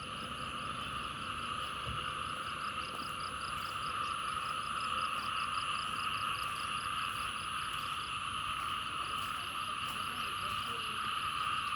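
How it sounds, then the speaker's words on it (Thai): Frogs and toads call after night rain, a dense continuous chorus of croaks and trilling pulses mixed with insect-like chirping, steady and fairly loud throughout with no clear speech. "เสียงกบเสียงเขียดมันร้องฝนตกเมื่อคืน"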